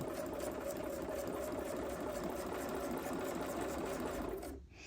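A sewing machine runs continuously at an even, whirring pace while stitching a quarter-inch fabric seam, close and steady before stopping abruptly at the end.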